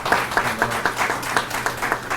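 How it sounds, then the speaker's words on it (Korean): Audience clapping for a presenter at an evaluation forum, heard as a fairly close, rhythmic run of hand claps that pulse at a steady beat, like a small crowd clapping in unison. "여러분 박수 많이 주십시오"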